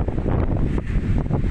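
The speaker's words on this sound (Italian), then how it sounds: "vi faccio sentire il vento." Strong wind gusting over an open hillside in Brunate above Como and its lake, a continuous loud rushing roar buffeting the microphone with no voices.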